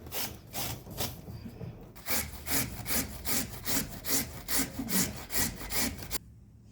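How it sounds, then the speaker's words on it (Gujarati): Peeled carrots scraped over a hand grater in a home kitchen, a steady back-and-forth rasping in even, rhythmic strokes, close and fairly loud, about a dozen passes, with no talk. "હવે આપણે એને છીણીશું. આવી રીતે આપણે એને બધા ગાજર છીણી લઈશું."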